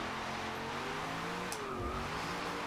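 Engine of a V8-swapped Mazda MX-5 drift build in Forza Horizon 2, a steady loud drone with shifting tones and faint tire noise, no talking.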